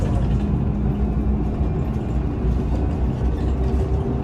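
A city bus in Montreux, Switzerland drives along with a steady low engine drone and road rumble heard from inside, continuous and fairly loud, with no talk.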